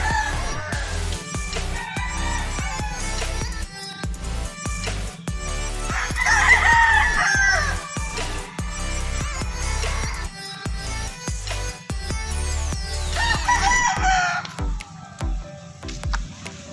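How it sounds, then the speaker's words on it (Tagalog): A rooster crows loudly several times, each cock-a-doodle-doo rising over steady background noise and scattered clucks from nearby fowl. "Chicken."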